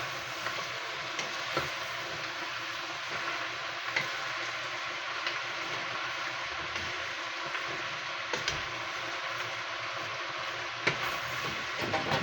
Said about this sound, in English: I'm going to give these a nice stir.